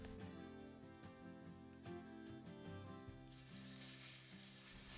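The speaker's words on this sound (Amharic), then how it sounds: "እሳቱን ከፍ አድርገን ነጭ ሽንኩርታችንን እንጠብሰዋለን።" Crushed garlic frying in hot vegetable oil in a pan over high heat, a steady close sizzle that grows brighter and crackles more toward the end.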